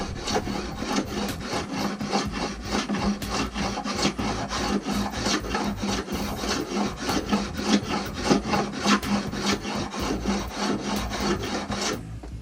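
A fine-cut file rasps steadily across the wood of a longbow limb being shaped, a dense run of quick, even strokes close up for the whole stretch, with no talking.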